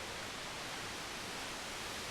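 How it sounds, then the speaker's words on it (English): A single white noise oscillator run through a low pass filter gives a steady, even hiss that stays unchanged and continuous from start to finish, with no talk over it. "It's just a single white noise oscillator with a low pass filter on it."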